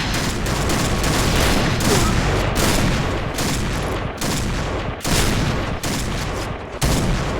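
Dense, sustained gunfire in an online shooter with sniper rifles, a continuous loud barrage of rapid shots and bursts with no let-up across the whole stretch.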